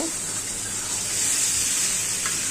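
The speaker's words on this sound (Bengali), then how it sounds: "আমি ভালো করে কষাই নিয়েছি, কড়াইতে লেগে যাচ্ছে।" A spice mix with jackfruit seeds and dried fish sautés in a wok, starting to stick to the pan, giving a constant close sizzle and crackle.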